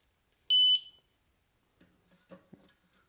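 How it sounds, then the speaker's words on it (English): Meross smoke detector giving a single loud, piercing pairing beep about a quarter second long in a quiet room, followed by faint soft handling noises. "the hub found the smoke detector, and it also made a very loud beep"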